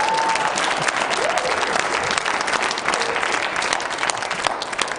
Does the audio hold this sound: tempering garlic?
no